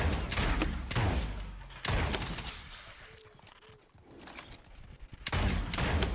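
Rapid bursts of venom pistol fire in the battle game Crown Royale come in loud volleys, broken by a quieter stretch before the shooting resumes near the end.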